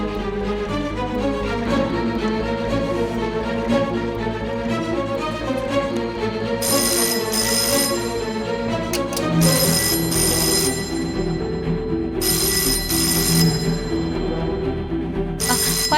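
A telephone bell rings in repeated bright bursts, each lasting a second or two with short pauses between, over a steady musical background and no talking.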